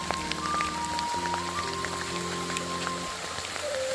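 Rain and hail patter steadily on surfaces outdoors at Cedar Creek Falls during a cold storm, a dense continuous drumming heard close without any voices.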